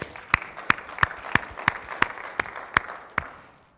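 Scattered audience clapping at a tech conference session: about nine distinct, evenly spaced claps from a small group, fairly close and crisp, fading out at the end.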